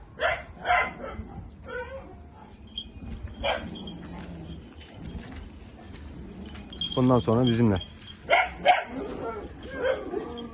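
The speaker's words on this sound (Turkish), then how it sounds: "Çok güzel temiz bir kangal köpeği." A clean Kangal shepherd dog barks in several loud, close bursts, with a louder cluster near the end, amid outdoor background noise while someone speaks in Turkish.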